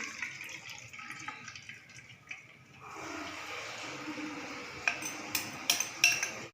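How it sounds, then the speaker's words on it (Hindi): Beaten eggs poured into hot ghee in a pan, first light clinks of utensils, then a sudden broad sizzle that holds steady, punctuated by several sharp spoon taps. "अब मैं इसके अंदर जो मैंने अंडे मिक्स करके रखे हैं वो डाल रही हूँ"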